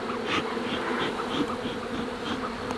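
Honey bees buzzing steadily at close range while being moved into a hive, a continuous drone with individual bees passing near and away, no talk.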